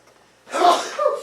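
A single sharp sneeze bursts out after a quiet moment in a physics lecture room, close and fairly loud with a short breathy tail.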